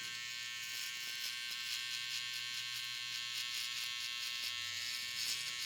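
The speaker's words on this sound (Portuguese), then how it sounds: "eu venho raspando mesmo com a minha máquina de acabamento" An electric finishing trimmer buzzes steadily as it shaves the light part of a fade haircut, a close, continuous hum with slight shifts in pitch and no talking.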